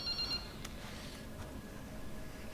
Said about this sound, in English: it's not the phone on the table, it's the phone on the bed